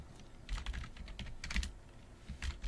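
Typing on a computer keyboard in bursts of clustered key clicks with short pauses between them, close and clear with no talking.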